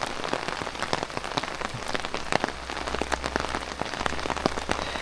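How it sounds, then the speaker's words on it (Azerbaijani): Heavy rain pours down in Tajikistan on the road toward a fortress, a dense, continuous hiss of drops striking the ground with countless sharp patters, steady and loud, with no voices. "Burada bir, o necə deyərlər, şıdırğı leysan yağır, yağış yağır."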